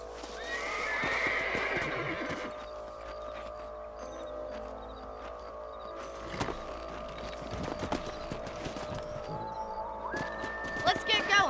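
Horses whinny loudly near the start, then hooves clip-clop along amid game sound effects from Red Dead Redemption, with another neigh toward the end.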